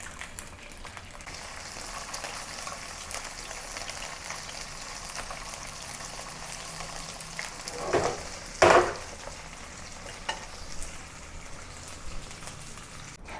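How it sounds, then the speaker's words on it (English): Fish frying in hot oil, a steady dense sizzle and spatter like rain on a surface that keeps going throughout, with a few louder pops and crackles partway through, close by and with no talking. "First, I will fry the fish first."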